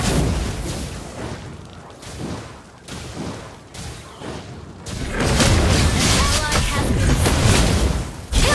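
In the Mobile Legends video game, a Lava Burst fire skill sets off rumbling booms and crackling blasts in repeated bursts, and a dense continuous roar of explosions follows.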